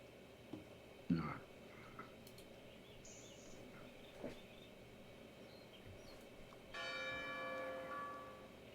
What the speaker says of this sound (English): That bloody bell again.